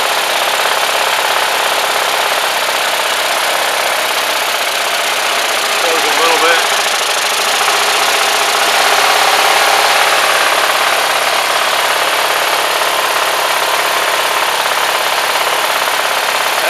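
Engine running on a homemade gasoline vapor fuel system, a steady loud idle with a continuous droning hum and slight knock, close by and unchanging over a long stretch.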